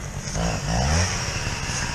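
A chainsaw running and warming up outdoors during tree felling, a steady rough engine drone held at a fairly constant idle with a slight rise midway, close and loud, with no voices.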